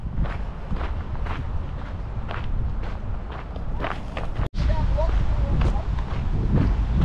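Repeated footsteps walking at a steady pace on pavement in New Zealand, under gusty wind noise in light drizzle and a brief dropout, with occasional faint background voices.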